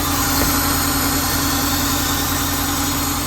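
Honda Element engine idling rough with a cylinder 1 misfire, a steady loud close-up drone with a dense, uneven low throb running unbroken throughout.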